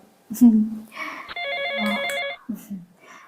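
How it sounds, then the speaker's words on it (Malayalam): A mobile phone ringtone plays indoors, a repeating electronic melody ringing for about a second, with someone talking close by before and after it. "എന്റെ ഫോൺ അടിക്കുന്നുണ്ട്"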